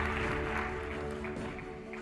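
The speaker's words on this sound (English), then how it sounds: "Let's give them this big round of applause and congratulations." Applause from an audience at a healthcare awards ceremony, a steady wash of clapping over a low background hum, fairly distant and even, with no speech on top.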